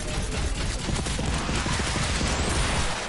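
Dense, continuous video game gunfire, sustained loud shooting with no clear gaps, like held-down rapid fire filling the whole stretch with no speech over it.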